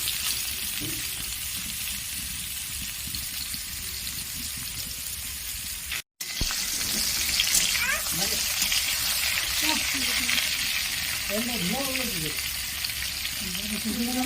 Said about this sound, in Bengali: হালকা করে পটলটা ভেজে নেব।